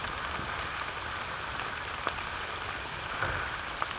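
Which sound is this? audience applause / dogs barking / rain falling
rain falling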